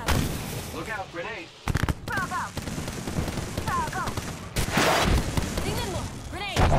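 Gunfire and grenade explosions in Apex Legends on Storm Point, repeated loud blasts and crackling shot bursts with abrupt booms, while players talk over the fighting.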